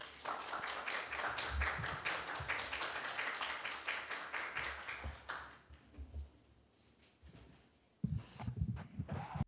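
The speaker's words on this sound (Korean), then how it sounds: "그럼 오늘 하창식 교수님을 큰 박수로 모시겠습니다." At an academic lecture, the audience welcomes the speaker with applause, crisp rapid claps for about five seconds that die away into quiet room noise, followed by a few low thumps.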